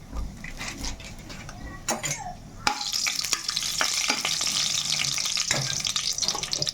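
Whole biryani spices such as cloves, biryani flower, cinnamon bark and bay leaf fry in a pan, with a close, rising sizzle after a few metallic clinks and scrapes of a spoon against the pan.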